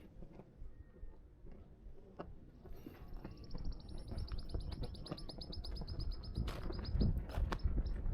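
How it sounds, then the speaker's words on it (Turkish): A small bird sings on a street in Amasya, Turkey, with a high rapid trill of repeated notes rising above soft street noise and footsteps, moderately distant. "Çok güzel bir kuş ötüyor."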